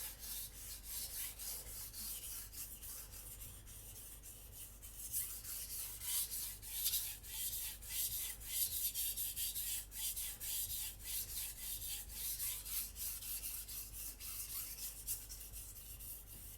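An R2 steel Takamura Migaki gyuto is stroked across a whetstone, a soft wet rasping repeated in steady back-and-forth passes, close and quiet with no voices.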